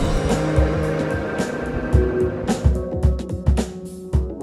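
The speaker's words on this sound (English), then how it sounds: "how do you do a burnout with Quattro?" Audi B5 S4 Quattro in the Forza Motorsport 3 video game doing a burnout, a revving engine with squealing, skidding tires in repeated bursts, loud and close.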